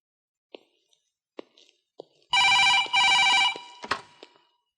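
A telephone rings indoors, two short electronic bursts of bright trilling ring, preceded by a few faint clicks and followed by a soft knock, loud and near with no talking.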